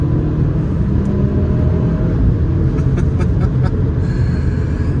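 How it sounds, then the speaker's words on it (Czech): A Cupra Formentor VZ5 with a turbocharged petrol engine accelerates, a steady loud interior rumble and road roar building evenly with faint whistling above, no talk over it. "Slyším krásně turbo dmíchadlo,"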